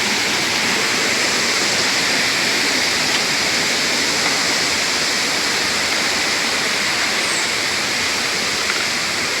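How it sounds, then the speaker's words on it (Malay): A clear waterfall at Mari Mari Cultural Village in Sabah pours in a loud, dense, unbroken rush of water that fills the scene from start to finish, with no voices over it. "Air terjun yang jernih."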